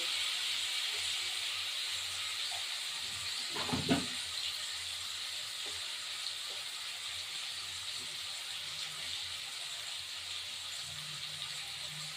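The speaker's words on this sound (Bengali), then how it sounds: "একটু ভাজা হতে থাকুক" Chopped onion frying in oil for chicken rezala, a faint steady sizzling hiss throughout with a brief clatter of utensils in the middle.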